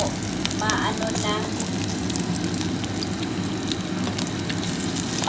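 Egg and luncheon meat fry in a hot pan with a steady, dense sizzle and crackle that runs throughout, close and fairly loud, with a few brief clinks near the start and no talking.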